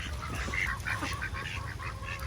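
Ducks let out of their pen after heavy rain quack and honk together in a steady, busy chorus, fairly close, with no talking.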